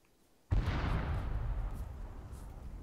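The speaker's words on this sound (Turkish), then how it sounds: "Patlama yanımızda oluştu." Explosion going off close by in the military shooter game Arma 3, a sudden heavy boom after a quiet moment, followed by a long rumbling decay that slowly fades.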